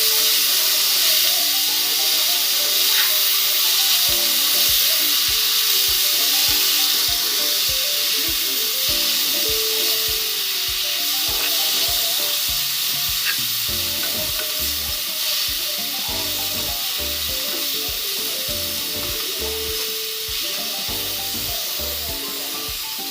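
Finely chopped spinach cooking on low heat in a pan for palak kadhi, a loud continuous hiss and sizzle with steam and a rapid bubbling patter throughout, close and steady with no voices.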